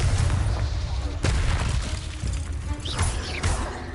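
Repeated Confringo blasting spells explode in Hogwarts Legacy combat: loud, heavy booms with sharp cracking attacks land at roughly one-second intervals, with rumbling low-end debris between hits and brief whooshing spell sounds.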